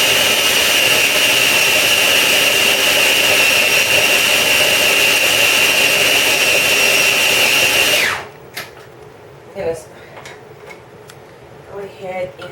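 A food processor blade whirs loudly and steadily for about eight seconds while blending pesto ingredients, then stops abruptly, leaving faint clicks and small handling noises.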